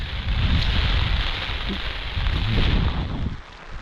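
Heavy downpour in open farmland, a dense continuous roar of rain with rumbling low wash, loud and close, steady before easing slightly at the end.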